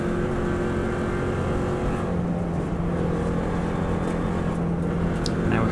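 A Subaru WRX STI runs flat out on the Isle of Man road course, its engine holding a loud, steady, high-speed roar through sixth gear for the whole stretch. No voices are heard.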